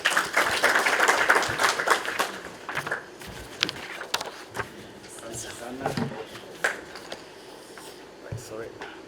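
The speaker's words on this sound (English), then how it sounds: "Let's give him one more round of applause." Audience applause after a speech at a WEF-ILO launch event in a Nairobi hotel, brief scattered clapping fading into taps and shuffling while people talk.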